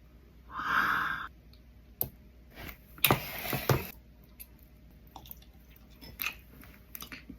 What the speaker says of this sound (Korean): 꿀 잘라가지고 넣어보자